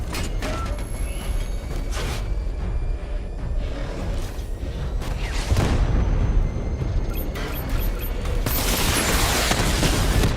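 Barrage explosions go off in Batman: Arkham Knight, with heavy booms and a rattling volley of blasts over a mechanical rumble, loudest in bursts toward the middle and end.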